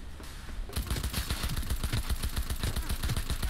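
Rapid automatic gunfire in the video game Cyberpunk 2077, a fast steady stream of punchy shots fired close and loud after a brief quiet start.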